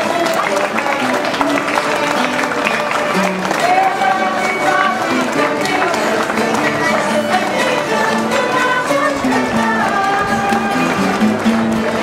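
Crowd at an outdoor folklore festival on Pico applauding a parading folk dance group, loud sustained clapping and cheering mixed with voices and festive music running underneath.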